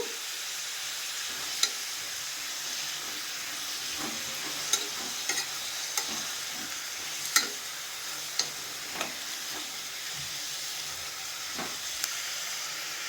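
Ginger garlic paste frying in a pan for vegetable pulao, a soft continuous sizzle broken by a dozen scattered spoon clicks and scrapes as it is stirred, quiet and close.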